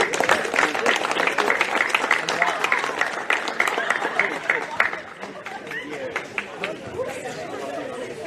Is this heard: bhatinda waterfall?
no